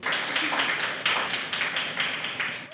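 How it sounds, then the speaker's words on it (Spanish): Audience in a studio setting clapping for a guest, a dense, steady round of applause from a modest crowd, close and even throughout. "Les pido un aplauso por favor para ella."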